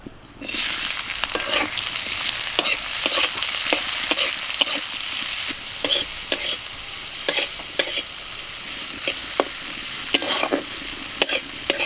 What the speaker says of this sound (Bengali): কড়ায় সর্ষের তেল দিচ্ছি, পেঁয়াজ কুচি,